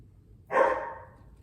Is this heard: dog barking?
yes